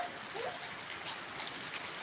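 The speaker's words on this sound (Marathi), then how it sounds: "आला पाऊस येतोय" Steady rain pours down, a dense, even patter of drops hitting surfaces close by with no pauses.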